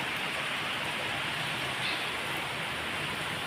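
Summer rain in Hyderabad falls as a steady, dense hiss at close range, with no pauses and no voices.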